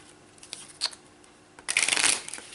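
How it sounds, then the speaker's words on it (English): Playing cards for a Mage Knight solo board game session are shuffled close up, with a few light flicks followed by a quick riffling burst of cards. "One last shuffle here."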